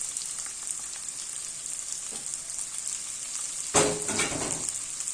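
Diced onion sizzles steadily in a hot pan, a continuous close frying hiss with a sudden louder burst near the end as it is stirred or more is added.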